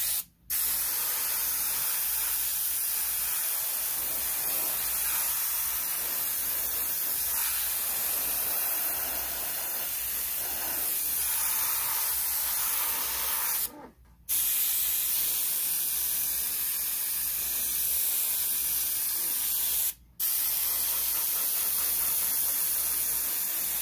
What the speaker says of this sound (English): I'm going to prime all of the parts using Vallejo Surface Primer Grey.